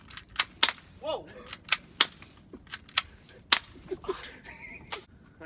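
An airsoft rifle fires a series of sharp, separate cracking shots at uneven intervals, each one loud and near. Brief voices and some rustling come in between the shots.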